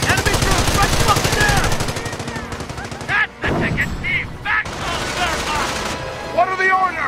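Dense gunfire and machine-gun bursts in the Company of Heroes WWII battle over Cauquigny, loud and continuous with rapid rattling volleys, shouted voices mixed in among the shots.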